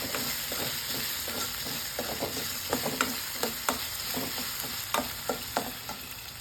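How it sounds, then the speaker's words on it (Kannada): Potatoes frying in a pan with spices, a steady close sizzle broken by repeated sharp scraping and stirring clicks from a spoon against the pan. "ಹಸಿ ವಾಸನೆ ಹೋಗೋವರೆಗೂ ಇದನ್ನು ಹುರ್ಕೊಳ್ಳೋಣ"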